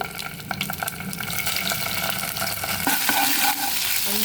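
Cumin seeds and ginger-garlic paste fry in a little oil for an egg curry, giving a steady, loud sizzle with scattered spoon scrapes and stirring clatter throughout.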